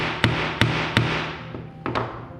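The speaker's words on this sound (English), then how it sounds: "Don't hammer it too hard because you're going to deform the lead if you do so." Hammer strikes on a lead tenya fishing weight being shaped at home: five sharp, close metallic taps, three evenly spaced then two quicker ones, each with a short ringing decay.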